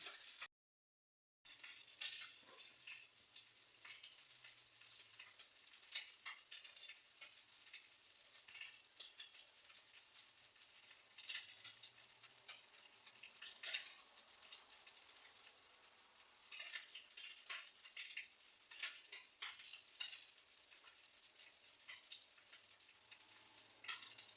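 Minced-meat patties sizzle and crackle steadily in a hot frying pan, with continuous spitting pops and occasional louder bursts, close up and without talk.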